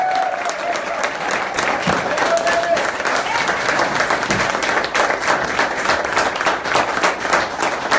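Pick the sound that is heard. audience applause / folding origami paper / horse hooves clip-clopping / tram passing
audience applause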